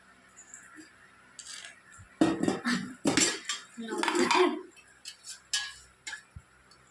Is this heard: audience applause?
no